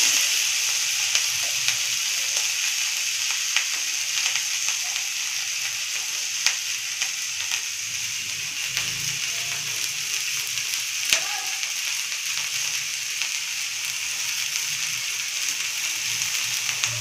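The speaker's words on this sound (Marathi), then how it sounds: "तर मी शेपू टाकून घेते गॅस कमी करून।" Steady, bright sizzle of fresh dill leaves frying in a hot pan on low gas for a mung dal and dill vegetable dish, continuous throughout with faint stirring scrapes and a few soft clicks.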